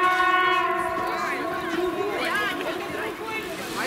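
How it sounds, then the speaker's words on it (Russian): A decorated Santa Claus train hauled by a DM62 diesel locomotive crosses an old Finnish bridge over the Jänisjoki river, sounding a loud sustained multi-tone horn with sliding pitch while people nearby talk. "Поезд Деда Мороза. Смотри, он украшенный едет."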